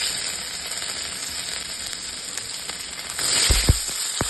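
Turmeric, dry red chillies, bay leaf and grated ginger sizzle in hot oil, giving a steady close hiss that turns louder and crackling near the end, with a few sharp pops.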